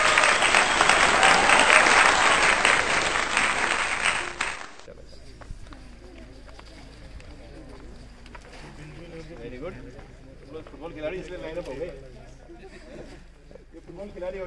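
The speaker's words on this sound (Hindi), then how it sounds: "तालियां।" Crowd applause rings out for a formal inauguration and release ceremony at a Munsiyari boys' football club cleanup event, loud and dense for about five seconds, then cuts off abruptly into quieter background chatter.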